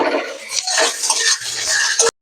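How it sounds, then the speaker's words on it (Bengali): A spatula scrapes and clatters in a pan while fried onions are stirred with ginger-garlic paste, busy metallic scraping close up that stops abruptly at the end. "এবার আমি আদা রসুন বাটা দিয়ে দেবো, দিয়ে একটু নাড়াচাড়া করে নেব।"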